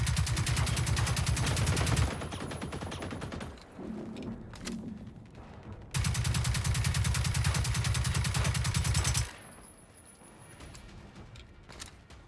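Two long bursts of rapid automatic gunfire in the video game Generation Zero, each a few seconds long, separated by a quieter stretch with faint clatter.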